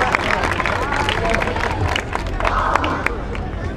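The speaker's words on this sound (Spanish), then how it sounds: "Ok, fuerte aplauso para esta super final." A crowd applauds at a competition final, dense continuous clapping mixed with cheering and hubbub, loud and close throughout.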